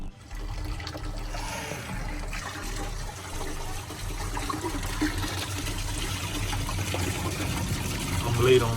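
Water rushes and gurgles steadily while flushing brownish coolant out of a car engine block during routine maintenance, a continuous watery wash that swells slightly louder toward the end, with voices talking over it.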